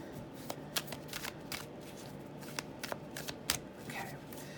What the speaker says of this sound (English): Let me just do a quick hand shuffle here really quickly.